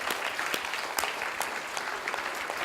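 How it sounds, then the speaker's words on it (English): A crowd at a youth leaders' summit ceremony applauds with dense, energetic clapping, sharp individual claps standing out above a continuous loud wash. "Give yourself a big round of applause"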